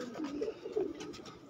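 Crossbred pipal pigeons give a short, low, throaty cooing phrase, close and moderately quiet, lasting under two seconds.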